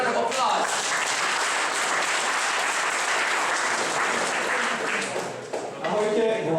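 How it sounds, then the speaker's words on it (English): An audience at a startup pitch event claps loudly and steadily, the applause sustained for several seconds before thinning out as a speaker begins talking. "please get a big round of applause"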